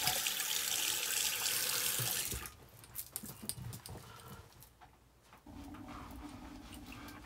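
A tap runs loudly for a cold water rinse after a shave, then cuts off into quieter splashes and drips before the flow resumes more softly near the end.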